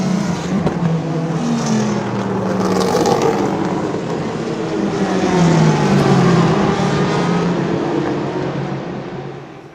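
A 2016 Ford GT race car at Le Mans, flat out near 200 mph on the Mulsanne Straight at night, gives a loud, continuous engine roar from inside the car, its pitch rising and falling slightly with no one talking.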